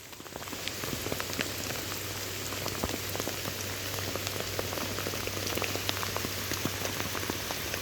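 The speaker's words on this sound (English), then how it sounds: "The rain that's falling is so heavy" Heavy pouring rain falls in a dense, steady hiss of countless close drops, with a constant low hum underneath and no voices.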